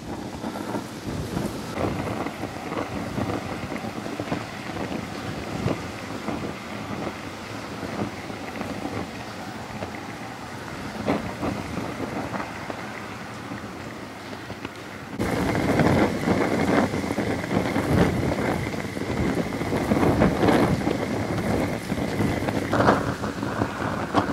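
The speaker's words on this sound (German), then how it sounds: "Wir haben einen sehr starken Sturm im Moment" A strong storm wind of up to 60 km/h blowing outdoors, a constant roaring rush buffeting the microphone that grows louder halfway through.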